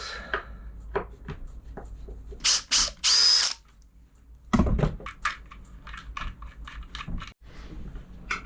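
A power drill drives filter bolts on a wooden boat's fuel system in several short, loud whirring bursts close by, separated by pauses with quieter clicks and handling noises and no talk.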